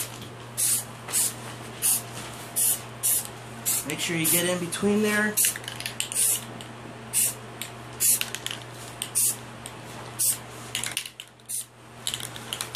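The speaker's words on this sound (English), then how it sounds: "Another test spray." A spray paint can applies primer to a homemade legacy morpher prop in short hissing bursts, repeated rhythmically at close range, with a brief spoken instruction partway through.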